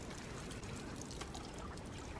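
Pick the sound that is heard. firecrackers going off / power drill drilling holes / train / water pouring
water pouring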